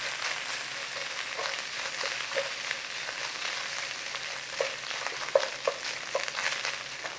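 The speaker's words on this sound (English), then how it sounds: "And then in with the onions and pepper." Onions and pepper fry in butter in a pan, a steady close sizzle running throughout with occasional soft stirring clicks and pops.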